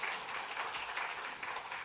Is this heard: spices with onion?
no